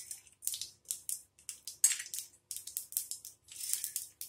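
Mustard seeds splutter and pop in hot oil in a pan for tomato rice, a dense run of sharp crackling bursts in quick irregular clusters, close and fairly faint, with no talk.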